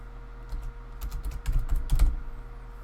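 Several bursts of quick key taps on a computer keyboard, close and clear, cluster around the middle, over a low background hum with no talking.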